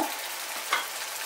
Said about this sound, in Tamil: இது கொஞ்ச நேரம் கொதிக்கட்டும்